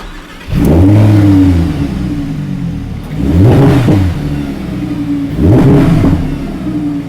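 An Audi RS e-tron GT or RS Q8 engine cranks and fires up, then revs loudly three times in succession, each burst swelling and settling back to a steady idle.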